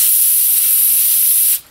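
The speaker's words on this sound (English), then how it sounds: "We can wipe it, or we can do our canned air trick" A close, loud hissing burst of canned air spray blowing excess solder off a Horizon EC3 battery connector, steady for about a second and a half before cutting off abruptly.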